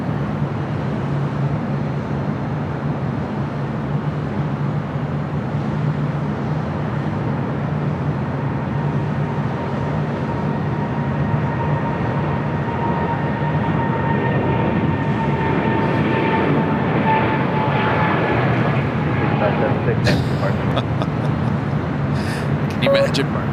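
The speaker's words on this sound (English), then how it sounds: "Eva Air Cargo 777 freighter. Brand new 777 freighter." A brand new EVA Air Cargo Boeing 777 freighter rolling down runway 7 left at LAX for takeoff, a steady broad engine roar with a rising whine that holds throughout, while people talk over it.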